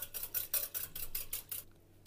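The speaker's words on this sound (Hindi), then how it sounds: "इसको हम अच्छी तरीके से मिक्स कर लेंगे।" Milk and ghee mixture stirred in a bowl, a run of about eight rhythmic scraping swishes of a utensil against the bowl, close and clear, then stopping.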